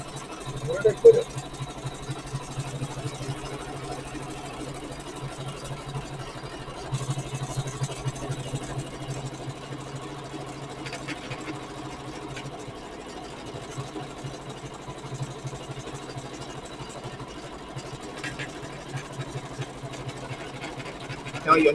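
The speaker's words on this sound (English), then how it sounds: "I'll just let this run for a few more seconds so you can see what it's doing." Embroidery machine stitching a quilt: a steady mechanical hum with a rapid stitching rhythm that runs throughout, moderately loud, with a few brief knocks and faint background sounds.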